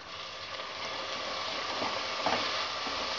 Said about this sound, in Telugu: వీటిని ఒక 2 నిమిషాలు ఫ్రై చేసుకుందాము